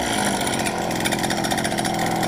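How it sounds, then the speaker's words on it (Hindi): A small mini engine fitted with a modified centrifugal clutch runs steadily and loudly, a dense buzzing drone with fast rhythmic pulsing throughout, close to the microphone with no talk. "स्पीड कम होते ही क्लच रुक गया है, स्पीड बढ़ते ही क्लच चलेगा।"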